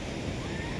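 Continuous wash of water and waves around a small boat on a ride, close and steady with wind buffeting the microphone, brief and unbroken.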